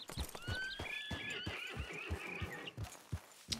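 A horse whinnies in Red Dead Redemption 2, a long, high, shaky neigh over steady clip-clopping hooves close by, with no voices over it.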